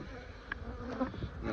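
Honeybees in a summer split hive buzz steadily at close range as a mated queen is added, a dense continuous hum with a couple of brief louder passes.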